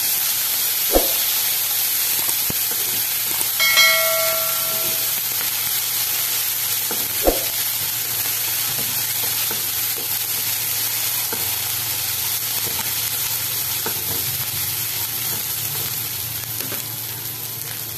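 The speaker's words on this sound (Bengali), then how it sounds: "সামান্য আদা আর কাঁচা লঙ্কা, এটাকে আমি এখন এখানে দিয়ে দিলাম। এবার সবগুলো একসাথে ফ্রাই করে নিচ্ছি একটু।" Ginger and green chili frying in a pan for a Bengali potato curry: a steady, fairly quiet sizzle runs throughout, with a couple of sharp utensil clicks and a brief squeaky scrape early on.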